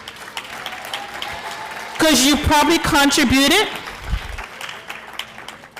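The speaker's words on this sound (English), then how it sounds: "give yourself a round of applause." An audience at a pitch competition breaks into loud applause for about a second and a half. The clapping starts abruptly after someone speaks into a microphone, and his voice carries on over the fading claps.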